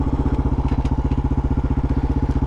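A Honda TRX 250X quad's single-cylinder engine idles steadily in neutral, a loud close-up low chugging pulse with a regular rapid beat and light mechanical clatter throughout.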